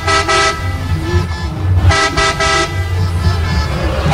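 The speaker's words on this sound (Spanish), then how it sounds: "Con el claxon de fondo." A car horn honks in repeated bursts, some short and some longer, amid a continuous low rumble of crowd and traffic noise at a Colombian league football match between Santa Fe and Junior.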